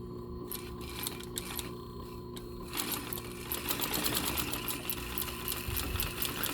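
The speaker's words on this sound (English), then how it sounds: "I'm going to just sew right across here on the back side." A sewing machine stitches straight and slowly across the back side of leather for a bag edge, giving a steady close mechanical whir with rapid needle ticking and no talk.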